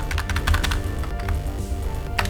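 Rapid keystrokes on a computer keyboard, clicking in quick irregular bursts, close and fairly loud over a low steady background hum, with no talking.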